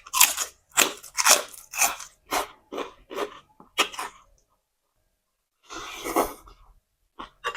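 Crispy pork rinds are bitten alongside spicy papaya salad, giving a series of loud, sharp crunches close to the mouth in quick bursts, a pause, then more crunching.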